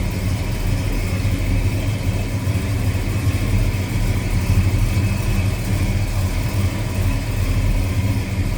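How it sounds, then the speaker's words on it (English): A 1964 Ford Country Sedan Wagon V8 with headers and a mild cam idles steadily, a near, loud, rumbling, slightly loping exhaust with no talk over it. "What a great sounding car."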